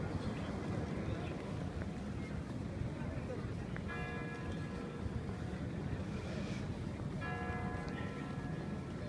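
Kremlin clock chimes ringing out over Moscow at seven in the evening, a few distant bell strokes spaced apart and half buried under heavy outdoor wind and crowd noise.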